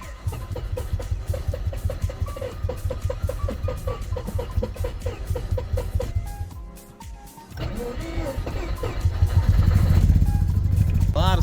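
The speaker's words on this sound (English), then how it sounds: "Okay, that sounds bad. I think it's definitely got a misfire." A Mazda RX-7 FC rotary engine idles rough with a misfire, uneven chugging pulses and shaky sputtering up close, with the engine note rising toward the end.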